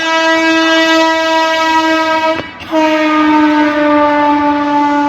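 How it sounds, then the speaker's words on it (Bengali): A train passing near a crossing at a fair, its loud sustained horn blaring close by for several seconds, breaking off briefly, then sounding again strongly over rumbling rail noise. "আরও একটা ট্রেন আসছে দেখতে থাকো"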